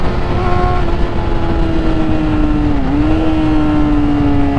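A Ford Mustang GT engine runs at full throttle, a loud, steady roar that holds its pitch and dips briefly before recovering, heard close with no talking.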